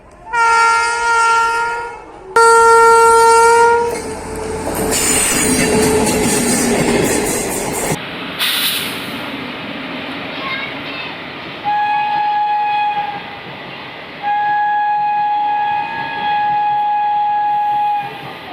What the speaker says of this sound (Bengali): ব্রিজের ওপর থেকে মালগাড়ি কন্টিনিউ যাওয়া আসা করছে